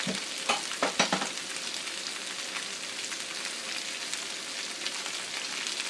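Potatoes fry in a cast-iron skillet with a steady close sizzle, opening with a few scraping, clattering stirs of a metal utensil before settling into an even crackle.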